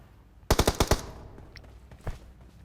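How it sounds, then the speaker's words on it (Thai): A rapid burst of five loud gunshots in the mobile battle-royale game PUBG Mobile, followed a second later by a single quieter shot, sharp and close with a faint background hum. "เพื่อนเขายิงอะไรของเขาอะ"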